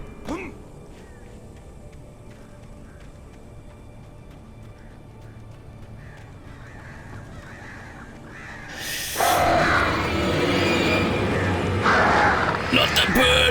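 Crows caw in the video game Alan Wake, a loud burst of harsh bird calls and flapping breaking out partway through over a low, murky ambient background.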